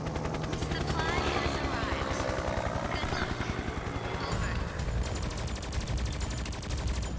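Gunfire from the XSHOT video game, rapid bursts of shots layered over a dense, continuous roar of rotor-like mechanical noise, with a voice talking over the action.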